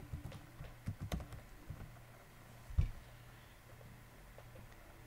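Computer keyboard typing while editing code, a quiet run of scattered keystrokes with a few sharper clicks near the start and middle, fading to sparse taps, no talking.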